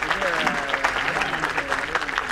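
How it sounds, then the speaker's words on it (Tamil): Crowd applause at a Tamil film audio launch event, a continuous patter of many hands clapping at moderate volume, with some voices mixed in. "அவருக்கு நம்முடைய நன்றியை கைத்தட்டல் மூலமாக தெரிவிப்போம்"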